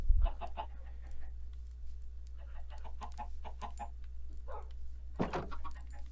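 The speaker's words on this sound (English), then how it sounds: "Farm chickens, farming chickens." Chickens in Minecraft cluck in a steady run of short bursts, with a louder squawk near the end and a low background hum.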